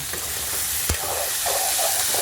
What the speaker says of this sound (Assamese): এইফালে আলু ভাজি আছোঁ